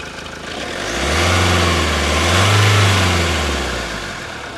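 A Mahindra Scorpio 4WD diesel SUV engine idles, then revs up in a long swell and settles back down, close and steady with no talking.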